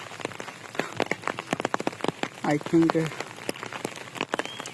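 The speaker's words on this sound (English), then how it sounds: "Just enjoy the sound of the rain." Rain falls steadily on a rainy day, with dense, sharp raindrops pattering and tapping on a surface close by as a person speaks briefly.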